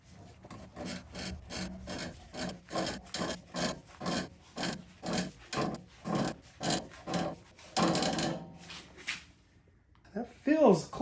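A shock spring is compressed in a Branick spring compressor on a King Shock, with a repeated rhythmic grinding and ratcheting that comes in steady strokes about every half second, followed by a few scraping clanks.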